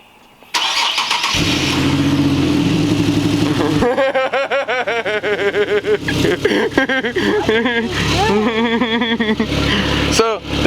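An Infiniti Q50 with the 3.7L engine cranks and starts, then idles loudly up close with a slight exhaust leak; the idle is steady, with rough, pulsing surges in the exhaust note and brief revs.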